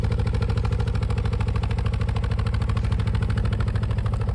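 A van engine idles nearby with the inverter running, giving a loud, steady, evenly pulsing low rumble that holds constant throughout with no talking.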